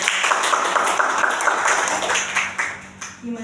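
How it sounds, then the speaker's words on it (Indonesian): A group of students applauds together during a school group-guidance session built around simulation games, a dense steady wash of clapping that thins out toward the end. "Boleh dong tepuk tangannya."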